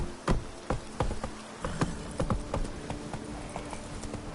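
Hooves of the horse Roach clip-clopping in The Witcher 3 video game, a steady run of sharp, fairly close hoofbeats over a faint buzzing, insect-like ambience.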